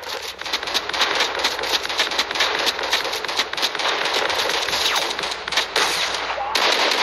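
Rapid automatic gunfire from a shooter video game rattles almost without pause, loud and dense bursts crackling throughout with no voices over it.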